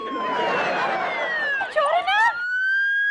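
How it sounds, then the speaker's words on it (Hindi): An ambulance siren wails in long descending sweeps, then switches to a fast rising-and-falling yelp before settling into a steady tone. "तुसी एम्बुलेंस बुलाई सी?"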